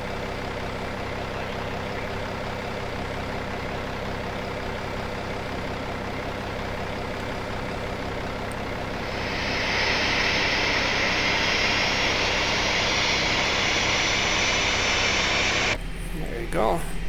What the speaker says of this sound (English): engine 2 starting.